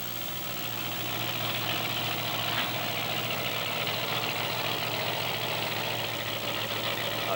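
Monster truck engines idling at a 1997 beach race, Ford Bigfoot and Chevrolet Carolina Crusher side by side, a dense, steady rumbling drone that holds loud and unbroken throughout.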